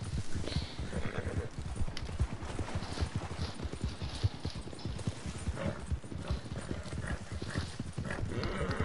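Horse hooves in the video game Red Dead Redemption 2 online thud in a quick, steady galloping rhythm, close and continuous throughout with no pauses.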